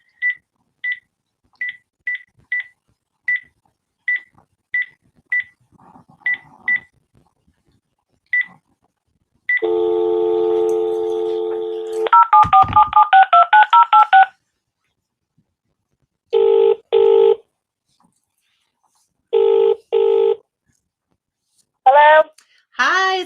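A telephone call is placed: a quick run of short dialing beeps, then a long steady tone, a warbling burst, and several repeated ringing pulses. The tones are close and clear, with silent gaps between them and no talk.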